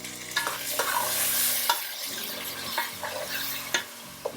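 Ground chilli and mint paste frying in a biryani pot for mutton biryani, stirred with irregular scraping knocks over a steady sizzle, close by with no talking.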